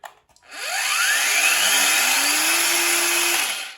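A Bosch 18V cordless angle grinder spins up with a soft start, its whine climbing in pitch over about a second and then holding at a loud, steady high speed before it cuts off, close by.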